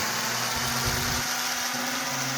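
Small electric motor on a Benz aero car model spins a new 5-inch propeller at high RPM, giving a steady, even drone with a faint low rumble throughout, heard close and alone.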